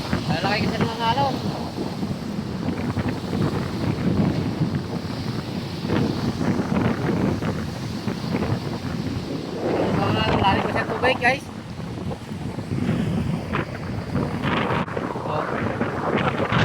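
Big waves surge onto a beach in a constant rushing roar with heavy wind buffeting the microphone, while someone talks over it.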